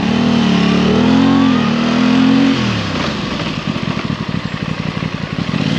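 An Aprilia Tuono 660 motorcycle roars loudly and steadily, then drops off and settles into a lower, pulsing idle as it brakes with both brakes.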